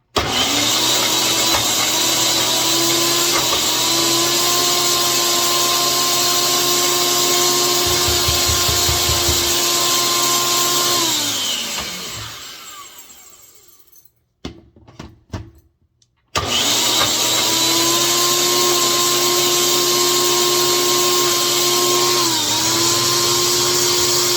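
A Ninja blender whirs loudly blending protein pudding, a strong steady motor drone that winds down, goes quiet briefly with a few knocks, then starts again at full power.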